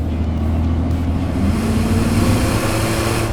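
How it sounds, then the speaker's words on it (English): A tuned 2017 Ford F-150 EcoBoost turbocharged V6 drones steadily, loud and close, with a hissing whoosh of turbo air layered over the deep rumble. "it's making all the right noises of a turbo application"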